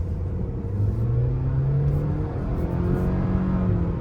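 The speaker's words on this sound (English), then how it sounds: "really have to rev this CVT out to get any power out of this" A refreshed 2025 Mitsubishi Outlander with a CVT revs hard under acceleration, its engine drone rising steadily in pitch, loud and close for the whole stretch.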